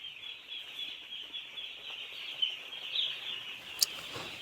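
A crowd of broiler poultry chicks on a farm at night keeps up a continuous high, shrill peeping chorus, with a few louder chirps standing out near the end.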